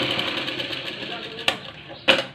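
A sewing machine runs cover stitching along a blouse, a steady close mechanical whir with a couple of sharp clicks near the end.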